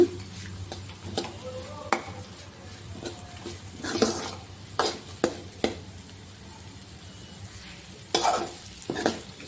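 Batter for pulunta/ponganalu being lightly fried and stirred in a pan, with intermittent scraping and clattering of a utensil against the pan over a soft sizzle, with louder bursts of stirring now and then.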